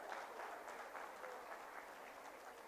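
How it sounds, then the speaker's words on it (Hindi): An audience at a spiritual talk applauds steadily, a dense, even wash of many hands clapping that sounds faint and somewhat distant throughout. "तो उनके लिए जोरदार तालियां तो होनी है."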